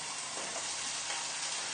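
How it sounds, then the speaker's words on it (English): Cod fillets sizzle in a hot pan, giving a steady broadband hiss of frying that is faint and unbroken throughout, with no talk. "Right, so hopefully this will sizzle now."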